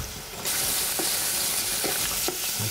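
Shallots with a little garlic fry in a pan, giving a steady, dense sizzle close by with a few faint stirring knocks; no one speaks.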